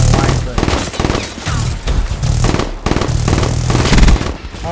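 Rapid automatic gunfire from Black Ops 3 pounds in loud repeated bursts with brief gaps, close and punchy, with a player talking over the shooting.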